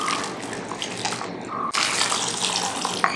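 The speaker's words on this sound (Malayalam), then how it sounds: "അതിലേക്ക് കുറച്ച് വെള്ളം ചേർത്തിട്ട് നമ്മളെല്ലാം കൂടെ മീൻ കറിക്ക് അതോട് മിക്സ് ചെയ്യുക" Water is poured into ground coconut paste for a Kerala fish curry, a close, steady splashing stream with a brief break partway through before it resumes.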